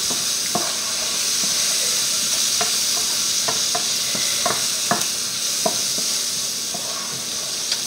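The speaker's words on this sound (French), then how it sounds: "Là, on remue, on ajoute nos champignons" Mushrooms sizzle steadily in a frying pan as they are stirred, with a constant close hiss broken by sharp scraping clicks from the utensil at irregular intervals throughout.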